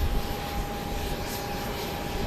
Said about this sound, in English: we got a plane getting ready to take off on the west side